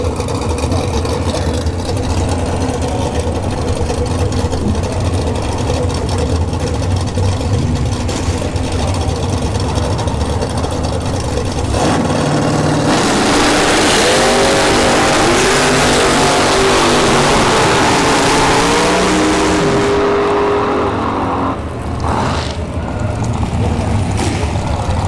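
Drag racing cars, including the Hellcat Dragster, idle loudly at the line and then launch with a roaring, rising engine blast that fills the air before dropping away as they pull off down the strip.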